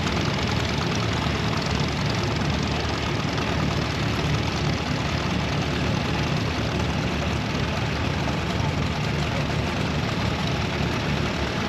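A restored Case Model 335 antique tractor engine idles steadily at a show in Larned, Kansas, a continuous low rumble holding constant loudness throughout with no talk over it.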